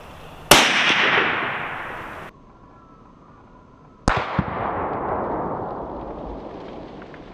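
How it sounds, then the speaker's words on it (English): Two loud, sharp reports from a muzzleloader rifle, the first at about half a second and the second near four seconds, each followed by a long rolling echo that fades across the open range. "So we took our 3 shots."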